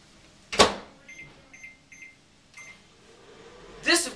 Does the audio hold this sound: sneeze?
no